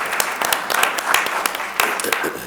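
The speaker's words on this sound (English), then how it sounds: "that's worth another round of applause" A crowd applauds at a city council meeting with steady, dense clapping throughout, fairly close and lively.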